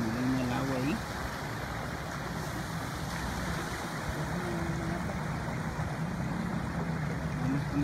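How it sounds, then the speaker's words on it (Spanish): Floodwater surges and swirls where the Juárez drain has overflowed into a street strewn with garbage, a constant rushing wash heard from close by while a reporter talks over it. "vemos cómo se remolina el agua ahí"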